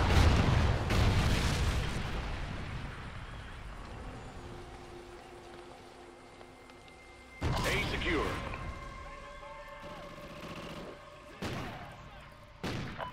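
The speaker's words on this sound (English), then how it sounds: "Friendly Trinity rocket inbound." Trinity Rocket explosions in a Call of Duty multiplayer domination match on the Ruins map: a heavy boom opens, then a later cluster of blasts and sharp bangs punctuate a rumbling battle bed, with voices heard under it.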